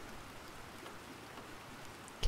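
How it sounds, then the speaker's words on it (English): Steady rain falls in the survival video game Planet Crafter, an even wash of patter that continues unbroken at moderate loudness, ending on a short sharp click. "We got rain, guys. We've got rain."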